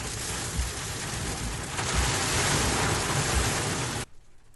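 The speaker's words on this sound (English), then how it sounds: "We got hail." Heavy rain with hail pounding down in a spring storm, a dense roaring hiss that swells louder midway and cuts off abruptly near the end.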